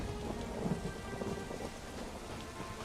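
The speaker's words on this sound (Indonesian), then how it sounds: "Lagi hujan lagi." Steady rain pours in the Elder Scrolls Online game world, a dense continuous hiss with low rumbling underneath, even and unbroken, with no voices.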